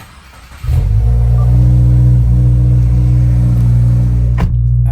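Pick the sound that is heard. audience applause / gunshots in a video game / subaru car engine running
subaru car engine running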